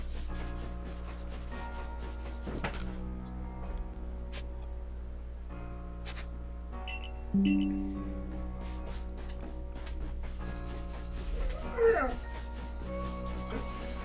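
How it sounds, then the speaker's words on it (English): A pet dog gives a few short whimpers and yips in a quiet room under a steady background hum, one louder whine standing out near the middle and another toward the end. "My dog's yelling at me."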